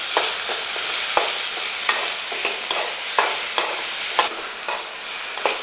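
Capsicum chutney ingredients sauté in a hot pan, a steady broadband sizzle punctuated by regular spoon scrapes and stirs, close and fairly loud with no voices.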